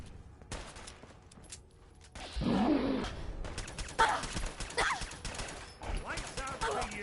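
Rapid gunfire from a pistol and other weapons in a PS4 shooter, a loud burst around the middle followed by scattered shots, with a voice talking over the action.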